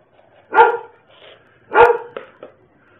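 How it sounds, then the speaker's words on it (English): A dog barks twice in two loud, close bursts about a second apart, each followed by softer yips and whimpers in the quiet between. "We're going to stand this way until the barking stops."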